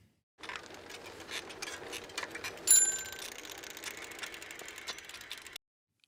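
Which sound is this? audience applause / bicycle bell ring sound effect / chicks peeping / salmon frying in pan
bicycle bell ring sound effect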